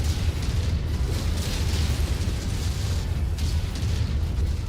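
Explosions rumble and burst continuously in the MechWarrior 5 video game, with dense, loud booms layered over one another as battle noise fills the scene.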